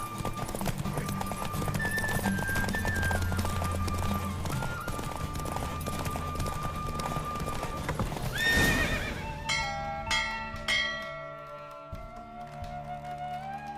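Rapid hoofbeats of a galloping horse in The Witcher 3: Wild Hunt drive on steadily, then a horse whinnies and a bright bell-like chime rings out toward the end.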